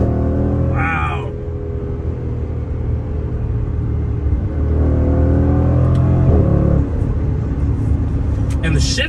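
A Range Rover Velar SV accelerating hard: a loud engine roar rises in pitch, drops briefly with quick gear shifts and climbs again, heard from inside the car with a person's exclamations over it.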